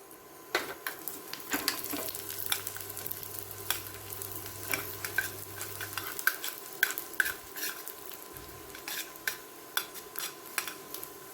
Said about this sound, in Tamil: பாதாம்லாம் வறுத்துக்கலாம்.